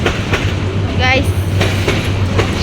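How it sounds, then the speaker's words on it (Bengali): A train passes near a muddy over-bridge construction site, a loud steady rumble with rhythmic wheel clatter and a brief rising squeal, close and continuous. "দেখেন ট্রেন আসছে, ট্রেন এই যে ট্রেন।"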